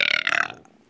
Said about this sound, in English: that belch